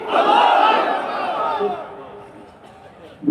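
A large crowd at a Kurigram Ijtema religious gathering roars a loud chanted response to a takbir call, the massed voices fading over a few seconds.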